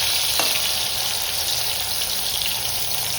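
Red potatoes frying crisp in a pan, giving a loud, steady close hiss of sizzling oil with one brief tap early on, running unbroken with no talk.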